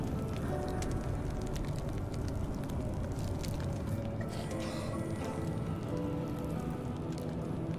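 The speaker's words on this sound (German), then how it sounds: "Scheiß radioaktiver Regen." Radioactive rain in the post-apocalyptic video game Surviving the Aftermath, a steady dense patter of raindrops on surfaces, continuous and fairly quiet throughout, no talk.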